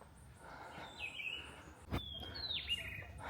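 Birds chirp and sing on a steep hillside near Fort George above Port of Spain, with a couple of bright, sweeping calls close by over a quiet outdoor background.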